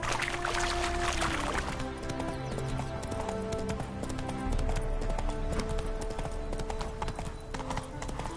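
Steady clip-clop of horse hooves at a trot in The Witcher 3, close and continuous over game music and ambient tones, with no talking.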